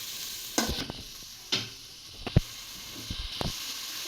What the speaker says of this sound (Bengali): তো তেলের মধ্যে দিয়েছি এখন পেঁয়াজ কুচি আর চাপিলা মাছগুলো হলুদ দিয়ে